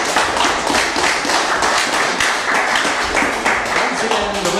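Audience clapping for the losing fighter at a 1980s women's boxing event, a steady, dense patter of many hands filling the room with no break, voices mixed into the noise.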